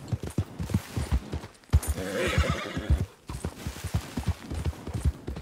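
Horse in the Red Dead Redemption 2 video game, with steady rhythmic hoofbeats throughout and a loud, drawn-out neigh in the middle, heard close up.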